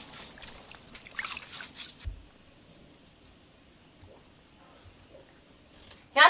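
Singed lamb heads are rinsed in water in an outdoor kitchen. Soft, faint sloshes and splashes come in a few bursts near the start, then things go mostly quiet, with a brief louder scrape at the end.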